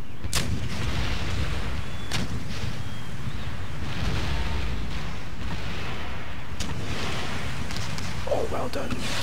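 Artillery fire in the video game Empire Total War, loud cannon booms at irregular intervals over a constant roar of battle noise.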